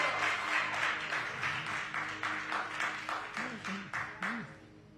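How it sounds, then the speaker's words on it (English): Light applause in a church service, a thin smattering of claps scattered over a few seconds with murmuring voices and a low sustained tone underneath. "What a smattering of applause that was."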